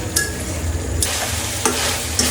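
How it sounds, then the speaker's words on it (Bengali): Chicken curry with potatoes stir-fried in a pan, a steady close sizzle and frying hiss broken by a few sharp scrapes and stirs of the spatula, with no talking. "মাংস কষানো হয়ে গেছে, এখন আলু দিয়ে নেব। আর একটু ভালো করে কষিয়ে"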